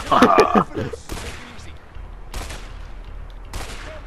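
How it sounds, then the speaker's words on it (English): Gunfire in the video game A Way Out: after a brief burst of voice, three sharp shots ring out singly, spaced more than a second apart, each with a short decaying tail. "I'm gonna shoot the air."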